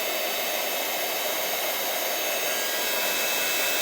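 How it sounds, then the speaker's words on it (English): Embossing heat tool blowing hot air for card making, a steady loud hiss-like whoosh similar to a hair dryer, constant and close throughout with no voices. "just going to switch my heat tool on"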